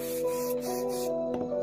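Dichlorvos insecticide aerosol sprayed indoors, a steady hissing spray lasting about a second, close and fairly loud over a low hum, then cut off, followed by a short faint rustle.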